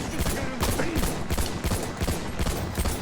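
Rapid gunfire from Battlefield 1: dense, repeated close shots in quick bursts, with overlapping reports filling the whole stretch.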